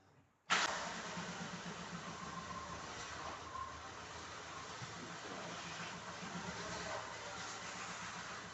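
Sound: Daewoo Gentra car engine starting and running

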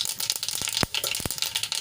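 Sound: mustard seeds, sesame and asafoetida sizzling in hot oil

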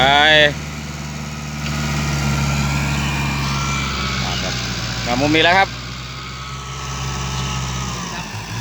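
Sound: Kubota tractor engine idling

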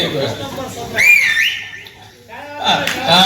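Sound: student imitating bird call by whistling

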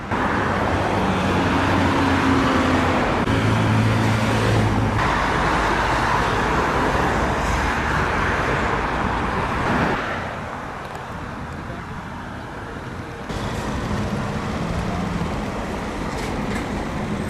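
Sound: road traffic, cars passing at a crossing without a crosswalk

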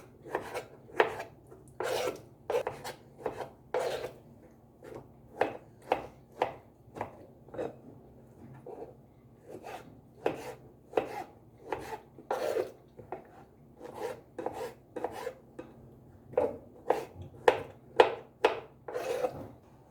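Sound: chopping tomatoes into cubes

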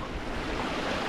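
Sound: water flowing in narrow stream

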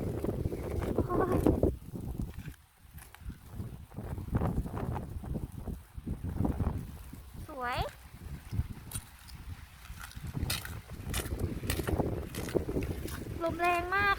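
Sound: strong wind blowing outdoors in snow

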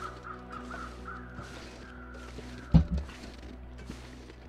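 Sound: crows cawing in the video game The Long Dark

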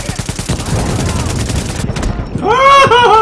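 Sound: sniper gunfire in video game The Division

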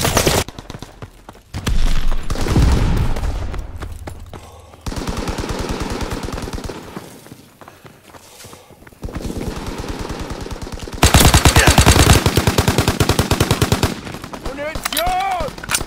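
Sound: Type 100 submachine gun firing in Call of Duty WW2 video game

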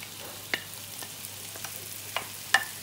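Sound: sautéing onion and green chilli filling for fish patties

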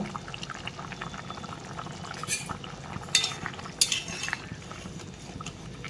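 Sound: stirring chopped coriander into fish curry in a pot

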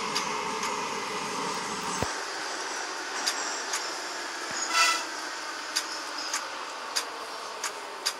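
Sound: Minsk metro train 81-717 arriving at Frunzenskaya station

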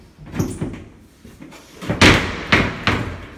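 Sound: closing folding laundry doors

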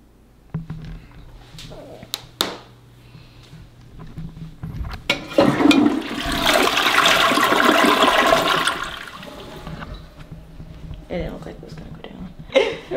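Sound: toilet flushing

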